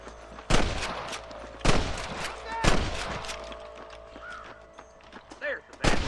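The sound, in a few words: gunfire in the video game Red Dead Redemption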